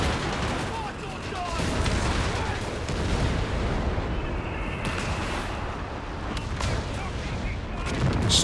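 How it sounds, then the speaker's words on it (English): Dense, continuous rumble of a creeping artillery barrage in the Company of Heroes 3 real-time strategy game, overlapping booms and gunfire blending into a constant loud wash, with a voice faintly talking underneath. "Oh, the creeping barrage. So strong. So accurate."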